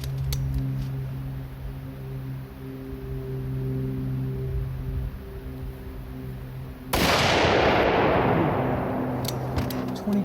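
A rifle firing homemade reloaded ammunition loaded with 26.6 grains of Ramshot TAC powder lets off one sharp, loud shot after several seconds of low steady hum, and the blast trails off slowly.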